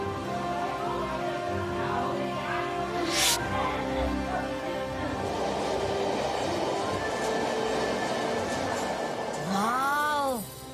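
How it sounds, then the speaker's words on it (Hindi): A cartoon metro train that runs through the air in a magical city rumbles past with a whooshing rush, layered over busy tonal background sound and ending in a swooping sweep. "क्या मेट्रो ट्रेन है, हवा में चलती है।"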